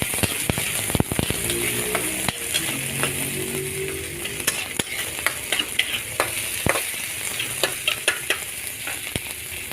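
Onion, green chilli and curry leaves fry with mustard seeds in a pan, a steady close sizzle and crackle with frequent spoon scrapes and taps against the metal, with no voice present.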